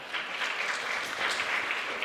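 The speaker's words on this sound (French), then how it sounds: "Jacques Vallée, qu'on peut applaudir aussi." A crowd claps steadily in a dense, even burst of applause for about two seconds.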